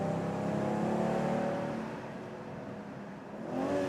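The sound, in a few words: BMW M440i or Audi S5 engine accelerating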